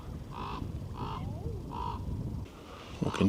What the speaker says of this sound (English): That might be the source of the gull noises.